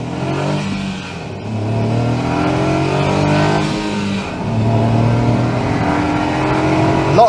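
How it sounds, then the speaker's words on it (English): A Honda S660 sports car accelerating hard in a 0-60 run, its small engine revving up loudly and close, with pitch rising then dropping through several quick gear changes. "I think we should probably do a 0-60 test if we can."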